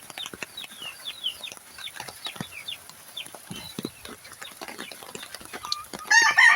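Several chickens cluck and chatter close by in a busy, irregular flurry, with a burst of louder noise at the very end.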